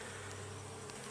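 Honey bees fly in and out of a hive entrance on an August late morning, a dense, continuous buzzing hum that stays close and steady throughout.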